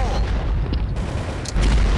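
Explosions burst in the Global Strike shooter game, a loud, booming blast followed by rumbling crackle and further sharp hits close by.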